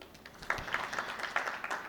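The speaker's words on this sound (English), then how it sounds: "A round of applause, please." Brief audience applause at a panel discussion on global value chains, a short patter of clapping at moderate distance.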